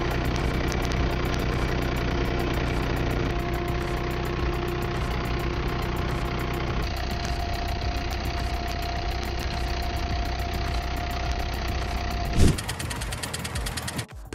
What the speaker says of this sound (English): Semi-automatic potato planter.